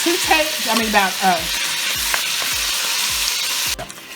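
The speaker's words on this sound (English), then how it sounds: "I'm stirring it really, really good" About two pounds of ground turkey meat stirred in hot oil in a pot, with a steady broadband sizzle and a regular rhythm of scraping strokes close by, some tonal clinks early on.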